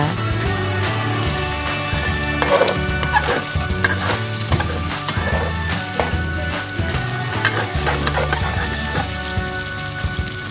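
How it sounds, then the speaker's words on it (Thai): Two eggs sizzle and crackle in a hot pan with fried garlic while a utensil stirs and scrapes, with rhythmic background music playing throughout. "ใส่ไข่ลงผัดเกือบสุกนะคะ"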